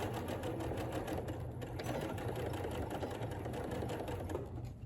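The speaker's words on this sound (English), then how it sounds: "I do not wish to sew over my pin." A sewing machine stitches a seam on a puffy quilt, a steady, fast mechanical whir and needle chatter that runs loud and unbroken throughout, with no voices.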